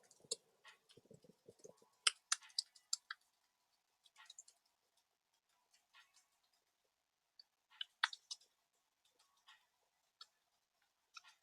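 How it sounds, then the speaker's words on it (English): Clicky keystrokes on a computer keyboard while typing out a peanut butter brownie recipe, irregular bursts of quiet, close taps with short pauses between runs. "I'm going to keep typing."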